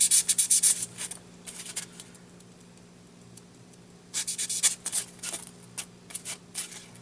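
Blade cutting bevels along the edges of insulation foam terrain, heard as close scratchy rasping strokes in two main bursts with quieter scraping between, no talk.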